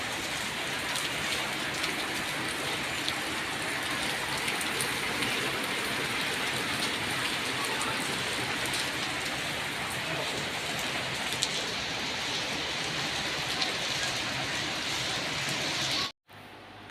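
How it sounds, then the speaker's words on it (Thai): Heavy rain pours down steadily in a dense, even hiss that stays constant for most of the stretch before cutting off abruptly near the end, with no voices. "แต่ก็ต้องหยุดเพราะฝนตกนะครับตอนนี้"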